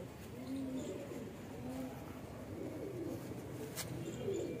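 Pure-bred magpie pigeons, a red-sandalwood show breed kept by fanciers, coo in low repeated phrases, fairly close and steady over a soft background hum, with no talking.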